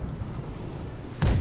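Cannons on a ship's left side fire in the naval video game Blackwake: a low rumbling boom of distant guns under steady background noise, followed by one sharp, louder blast near the end.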